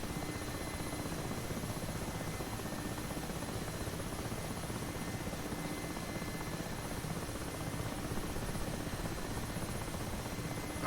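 An Mi-8 Hip helicopter in the DCS World flight simulator gives a constant, even rotor and turbine drone with a steady thrum, moderately loud and unbroken, with no talk.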